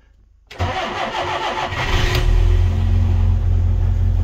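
A Ford Cortina cranks over with the choke out and catches after about half a second, the engine quickly rising into a loud, steady, close idle that holds, with no talk over it.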